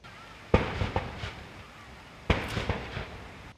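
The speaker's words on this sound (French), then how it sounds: "une parade d'honneur ponctuée de 21 coups de canon" Two sharp, booming cannon blasts about two seconds apart, each with a rumbling tail, from a 21-gun salute during an honour parade at a presidential state welcome in Uganda, heard from a moderate distance.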